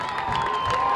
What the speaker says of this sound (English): here comes the crowd getting behind this Titan defense